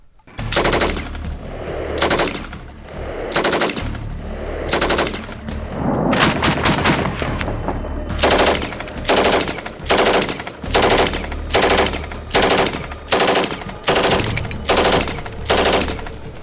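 A machine gun fires in rapid bursts, loud and close, with around a dozen sharp, repeated volleys, one longer stretch of sustained rattling fire and short gaps between bursts, without any talking.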